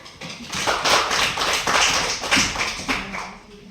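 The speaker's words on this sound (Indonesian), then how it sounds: "Luar biasa, tepuk tangan." A group claps in a classroom setting, a loud, close burst of many hands that swells quickly, holds in uneven waves, then tapers off near the end.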